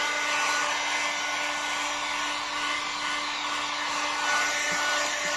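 A hot air gun blows steadily onto freshly sprayed paint on a Honda CD175 motorcycle engine, a constant loud whooshing roar with a faint tonal hum, unbroken for several seconds.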